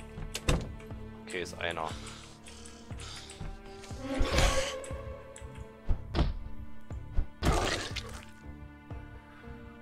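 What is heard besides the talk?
removing a barricade in the video game Project Zomboid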